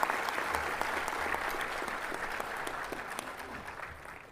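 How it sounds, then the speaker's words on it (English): A crowd at a farewell function honouring Supreme Court judge Justice Aniruddha Bose gives sustained, even applause, a dense wash of clapping from many hands that holds steady throughout. "Will you please give a warm round of applause for Justice Aniruddha Bose?"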